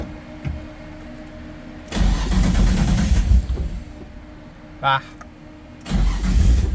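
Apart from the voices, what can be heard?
Nissan 240sx engine cold start attempts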